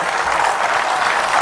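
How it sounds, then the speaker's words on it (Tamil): A short, dense burst of audience clapping at an HR panel discussion in Madurai, loud and close, heard on its own without speech. "அந்த கைத்தட்டல்"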